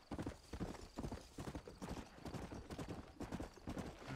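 Quiet, rapid horse hoofbeats clop along in a steady rhythm, with no talking, in the video game Red Dead Redemption.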